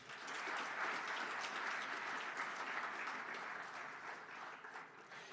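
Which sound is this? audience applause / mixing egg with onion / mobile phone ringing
audience applause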